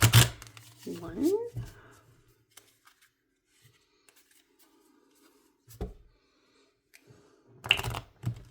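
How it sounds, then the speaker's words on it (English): A deck of oracle cards is shuffled by hand in short, close bursts of papery riffling separated by long quiet gaps, with a single spoken word in between. "I'm going to shuffle my deck."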